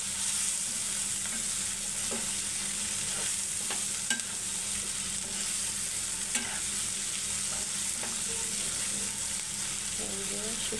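Dried lotia fish frying with potatoes in a pan, a constant close sizzle with scattered clicks and scrapes of stirring throughout.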